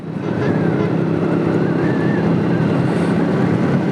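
A motorcycle cruises along a road in Bangladesh, a steady engine drone mixed with heavy wind rush from riding, loud and continuous without voices.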